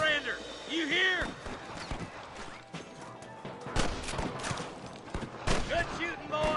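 Gunfire in the video game Red Dead Redemption: several sharp gunshots crack out irregularly over a busy in-game soundscape, mixed with character voices and possible hoofbeats.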